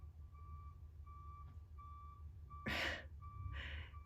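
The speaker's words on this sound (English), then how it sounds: "some sort of construction equipment backing up" Steady reversing beeps repeat at an even pace from construction equipment backing up, with a background rumble and a couple of sharp breathy bursts near the end.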